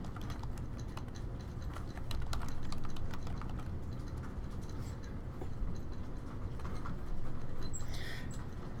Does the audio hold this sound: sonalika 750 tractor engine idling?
no